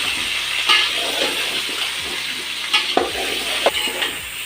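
Sambar with turmeric is stirred in a pot, a wet, sloshing, sizzling churn with a few louder scraping knocks of the spoon against the pot, close and continuous, with no talk.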